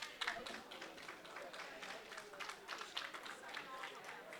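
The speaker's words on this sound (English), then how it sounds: "So big applause there for Ernesto Duran" Audience at a Colorado Hall of Fame banquet clapping, a dense patter of many hands with a moderate, fairly even loudness, continuous for the whole span.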